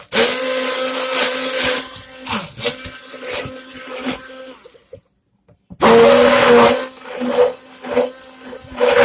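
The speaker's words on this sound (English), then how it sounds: "I'll lift up my stick blender" A stick blender whirs loudly through red palm oil soap batter in a cold process soap recipe, running in bursts that stop and restart, with a short silent pause mid-way before it runs again.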